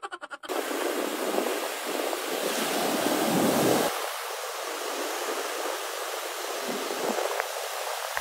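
Ocean surf roars during a typhoon on the Zambales coast, a loud, continuous wash of breaking waves heavily mixed with wind buffeting the microphone.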